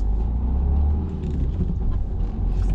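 A car coasts through city-centre traffic with the accelerator released, producing a steady low engine and road rumble from inside the cabin, heard alone.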